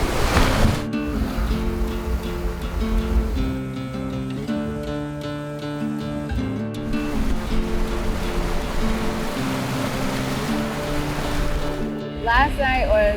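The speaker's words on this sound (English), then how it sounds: "The waves are really big." Big ocean waves surge and wash around a sailboat in rough, sloppy weather at sea, a steady loud rush of water and wind noise running throughout, with a voice talking over it.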